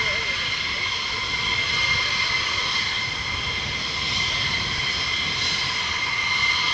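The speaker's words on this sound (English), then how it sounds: "Another F-35." An F-35 fighter jet at RAF Lakenheath gives a constant, loud, high-pitched engine whine and roar throughout, with no breaks.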